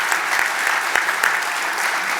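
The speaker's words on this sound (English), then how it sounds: "Let's applaud the workers." An audience applauds for workers at a mayor's State of the City address to the Hamilton Chamber of Commerce, with dense, even clapping filling the whole moment without a break.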